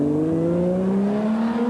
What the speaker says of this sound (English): Engine sounds good, Larry.